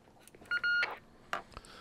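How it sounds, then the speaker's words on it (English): A Cybernet 134 board CB radio sends a high-gain five-tone roger beep: short, clean electronic tones in quick succession, fairly faint, over a quiet background with soft clicks. "there's our high gain 5 beep"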